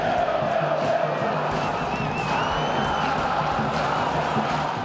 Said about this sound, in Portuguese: Vaiado pela torcida do Flu, John Arias foi ovacionado pelos palestrinos.